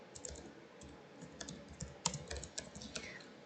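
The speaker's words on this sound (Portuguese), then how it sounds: "com as setas do teclado eu vou pulando o slide" Arrow keys on a computer keyboard being tapped to skip through PowerPoint slides, a quiet irregular series of close, light clicks.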